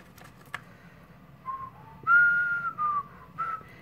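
A lone person whistles a short tune nearby in a quiet room, a few soft wavering notes rising and sliding over about four seconds.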